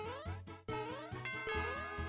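A ding-dong chime sound effect from the Super Mario Maker video game rings out amid bright, layered electronic game music, with repeated rising melodic tones and no talking.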